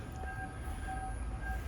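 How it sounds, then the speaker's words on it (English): A train passes beside a house in Sri Lanka, a steady low rumble with faint tonal hums above it, continuous and moderately loud for under two seconds, with no talking. "that's the train beside my house."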